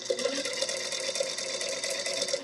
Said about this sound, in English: I'm going to sew my little corners on here